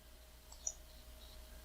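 A single computer mouse click, faint and close, over a quiet background hum.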